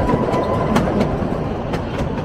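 The Shimla toy train rolls along its rails with a loud, close rumble and a regular clickety-clack of wheels over rail joints, and no one speaks.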